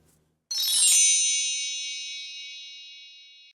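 One bright metallic notification-bell ding rings out alone and lingers in a long shimmering decay lasting about three seconds.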